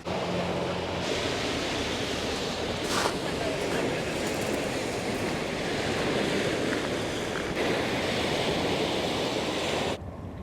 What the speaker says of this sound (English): just a 15-minute walk from the Bermondsey Beer Mile and you will find Bermondsey Beach.